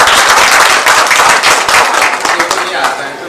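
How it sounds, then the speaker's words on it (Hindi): A crowd at a presentation on ODM cosmetics technology breaks into loud, close applause with distinct individual claps, and voices carry over the clapping throughout. "तो एक बार इसके लिए जोरदार तालियां हो"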